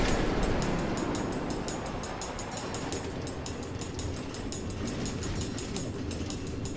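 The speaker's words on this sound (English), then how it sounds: "Automated train tracks running all through the Nether, connecting all the different Order members?" A minecart-style train runs on automated tracks through the Nether in Minecraft Story Mode, a steady loud rumble with quick regular clickety-clack beats throughout, no talking.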